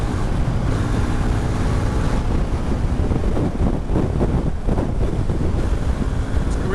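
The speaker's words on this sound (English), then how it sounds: "Oh boy, is it windy." Heavy wind roars and buffets across the microphone while riding a KTM RC390 small sport bike on the road, a loud, constant rushing that drowns out everything else.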